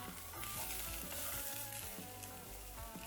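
Tomato cream sauce for zucchini spaghetti sizzles steadily in a pan, a dense close frying crackle with faint clinks, no talking.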